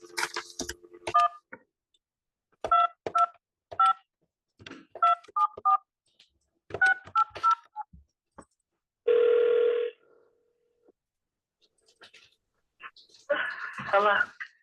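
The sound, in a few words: telephone number being dialed, DTMF tones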